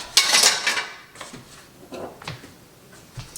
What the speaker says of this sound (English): Got a sink full of dishes.